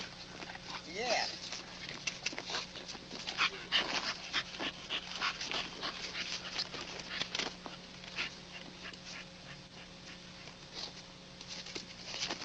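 Dogs in a kennel yard patter, yip and whimper around a person speaking nearby, with the rustle of movement continuing throughout.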